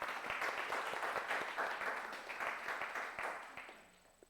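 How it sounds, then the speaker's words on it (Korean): A church congregation applauds after a choir's praise song, with dense, steady clapping throughout that thins slightly toward the end. "우리 박수 한번 해서 찬양 너무 감사합니다."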